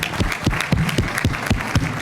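An audience at a Harvard Law School keynote claps loudly and steadily in a brief burst of applause, the claps landing in a fairly even beat.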